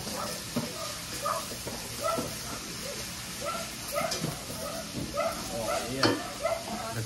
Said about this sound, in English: Get another stir.